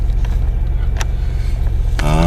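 A 1998 Chevrolet Monte Carlo idling around 1,000 rpm, parked on blocks with the parking brake on: a loud, steady low engine rumble with a rising tonal whine entering near the end.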